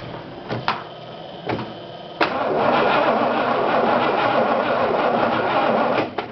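A 1966 Buick Skylark Grand Sport convertible cranks on a weak battery, a few short sluggish turnovers and then a long labored churning starter drone that never catches, loud and close.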